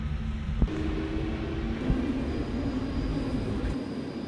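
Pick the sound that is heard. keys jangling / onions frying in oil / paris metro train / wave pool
paris metro train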